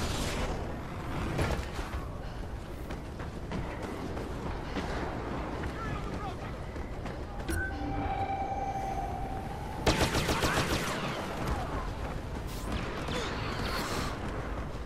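In Star Wars Battlefront, blaster pistols fire in quick bursts amid dense mechanical battle noise and explosions, with a sharp volley near the end.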